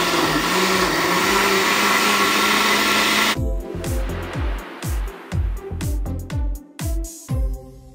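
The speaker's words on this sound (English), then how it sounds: "on the blender here, and then we are going to be turning it on to smoothie." A blender whirs loudly as it purees a berry smoothie, a steady roaring motor that then breaks into a series of short pulsed bursts with brief pauses between them.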